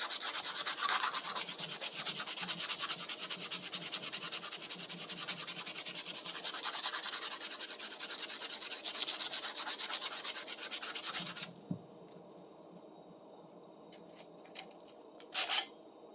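Small pieces of sandpaper scrub against a workpiece while restoring a four-in-hand rasp and drywall knife, a close, continuous rasping rub for about eleven seconds, then stopping with a few faint scrapes after.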